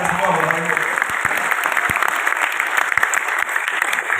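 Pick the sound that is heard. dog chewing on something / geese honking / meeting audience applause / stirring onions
meeting audience applause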